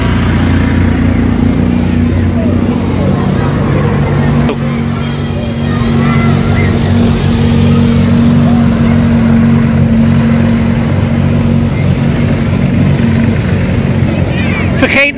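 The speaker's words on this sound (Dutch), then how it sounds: "je ziet wel lekker tractoren en zo" Tractors rolling past in a village festival parade, a loud continuous low engine drone with steady idling rumble, close by and sustained throughout with crowd noise in the background.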